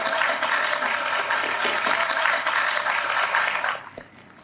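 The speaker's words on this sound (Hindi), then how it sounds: "उनके लिए भी तालियां बजाई।" A studio audience applauds at a stand-up comedy show, making a steady dense wash of clapping that holds evenly for nearly four seconds and then drops off quickly into quiet, with no one talking.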